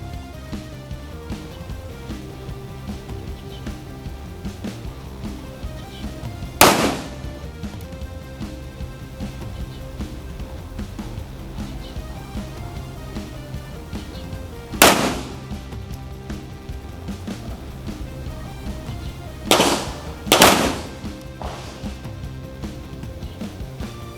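A Rock Island Armory 1911 9mm pistol firing full metal jacket rounds on a range, with four loud sharp shots spaced irregularly, the last two close together, over a constant hiss and low rumble.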